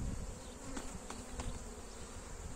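A dense, steady buzzing of many honey bees around crowded hive frames hums close by without pause, with a few faint clicks and knocks underneath.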